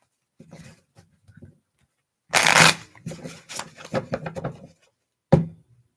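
A deck of cards shuffled close up, opening with a few soft taps and slides, then a loud riffle burst, followed by quick flicks and a final sharp snap of the cards.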